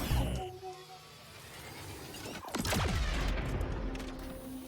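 In the sci-fi hospital video game Galacticare, a Medi-Cannon fires with a burst of booming, crackling blasts and mechanical clatter from the middle onward, following a quieter stretch of game ambience.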